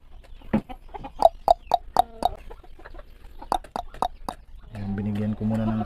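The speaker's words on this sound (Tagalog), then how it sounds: "So ito yung isang pair ko mga backyard na black selkie." A pair of backyard black silkie chickens cluck in a quick run of short, sharp calls while being given feed, close and clear, with a voice speaking near the end.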